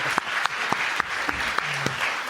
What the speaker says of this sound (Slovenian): Dajmo en aplavz za trud,